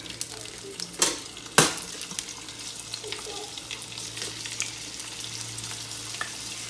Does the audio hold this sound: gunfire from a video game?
no